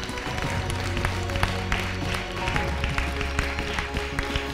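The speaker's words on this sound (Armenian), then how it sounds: "Եվս մեկ անգամ ծափահարենք և շնորհավոր ենք աղջիկներին" An audience applauds at the final of the Miss Armenia 2021 beauty pageant, a dense sustained clapping from a crowd under music, with some voices mixed in.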